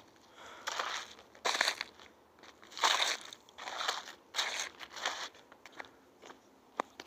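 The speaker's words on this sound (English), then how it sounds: "We got through the ice." Footsteps crunch through ice underfoot in a run of crisp, crackling bursts, irregularly spaced and fairly close, with quieter gaps and a sharp snap near the end.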